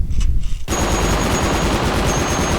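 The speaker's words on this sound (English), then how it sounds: "when you shoot the machine gun, you add some points on the overheating mechanic. Now let's start shooting" A combat drone's machine gun in a video game opens up after a brief quiet moment, a loud, dense stream of rapid automatic gunfire that continues without pause.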